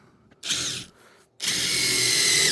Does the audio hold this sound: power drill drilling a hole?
yes